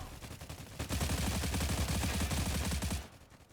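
Rapid automatic gunfire from a firefight in the video game Stalcraft: X, a dense burst of shots lasting about two seconds, loud and close, with softer shots before and after and no talking.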